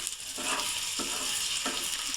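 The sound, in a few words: egg frying in a pan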